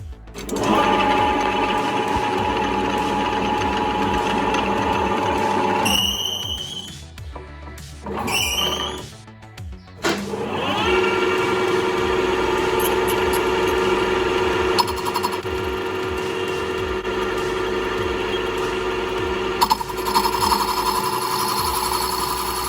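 A cutting tool grinds away part of a SACHS 20 engine, a loud sustained whine with steady buzzing tones that break off around the middle for a few seconds of shifting squeals before resuming at full strength.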